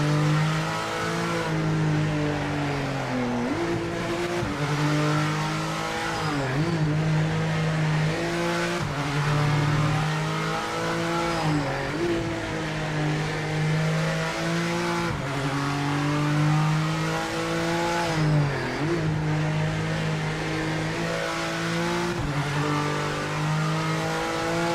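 A BMW GT3 race car engine from the Project Motor Racing racing game drones loudly and steadily throughout, its pitch climbing and dropping with repeated gear changes and shifts, with no talking over it.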